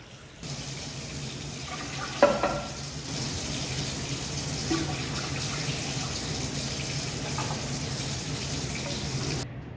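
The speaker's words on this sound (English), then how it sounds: "I'm just gonna take some hot tap water and fill them to the top." Hot tap water pours steadily over canning jars in a container, a continuous watery hiss with a brief clatter near the start, close by and moderately loud.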